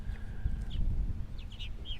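Purple martins call around their nests on Eastern Long Island in summer, with several short chirps and warbles rising over steady low outdoor rumble at a moderate distance.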